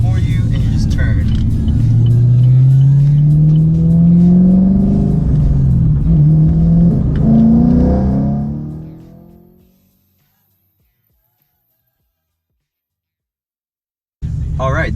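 A 2016 Chevrolet Camaro SS engine revs hard under acceleration, a loud rising drone with gear-change steps, then fades to silence before the rumble abruptly returns; a voice talks over it.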